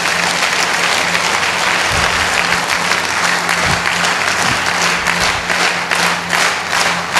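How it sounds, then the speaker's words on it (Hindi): A large audience at a direct-selling business seminar claps loudly and steadily for several seconds, a dense continuous applause with no talking over it. "तो एक बार प्लान के लिए दिल से ताली बजा दीजिए"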